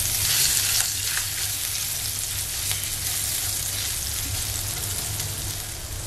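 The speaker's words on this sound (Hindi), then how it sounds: "जीरा ब्राउन हो गया है, अब इसमें हम कटा हुआ अदरक डालेंगे" Chopped ginger frying in hot oil with browned cumin seeds while cooking a stuffed parwal sabzi gives a loud, steady sizzle that continues throughout, with faint stirring and no voices.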